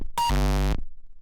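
One loud, distorted hardcore kick drum from the Fragment Audio DOOMSDAY Serum pack, opening with a pitched click and ringing into a thick sustained low boom, with faint noise around it and no talk.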